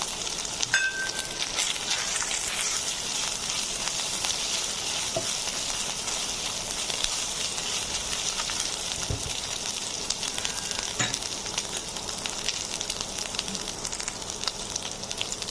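Ginger garlic paste and red chillies fry in a pan, giving a steady, even sizzle that runs unbroken throughout, with a few faint clicks of stirring mixed in.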